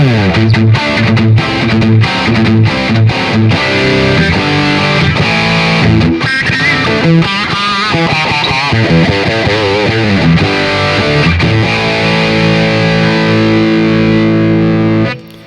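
Heavily distorted electric guitar played loud through a Zoom MS-50G Multistomp amp model with gain and tube compression at full, with chugging chords and sustained notes that ring out at the end.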